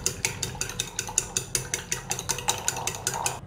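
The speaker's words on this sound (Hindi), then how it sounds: "हम अंडों को तोड़कर बीट कर लेंगे।" Eggs being beaten with a utensil in a bowl, four eggs cracked for egg rolls: a steady, quick rhythmic clatter and tapping of about sixteen strokes, close and fairly loud, with no talking.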